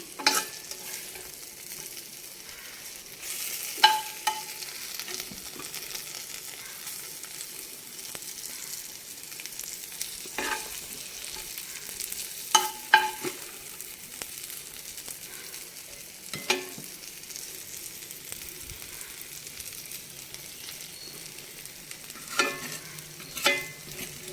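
Stuffed eggplant (gutti vankaya) fries in a pan with a soft continuous sizzle, and a spoon scrapes and stirs it now and then in occasional clear strokes.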